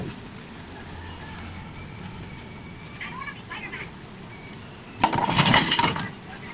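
Drinking glasses clink together while being washed with dishwashing liquid, under a low background rumble, with a bright burst of clattering glass near the end.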